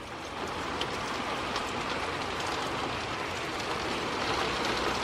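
Heavy rain pours down steadily during a storm with wind and hail warnings, a dense, even wash of drops hitting surfaces and overflowing gutters, loud and close throughout with no talk.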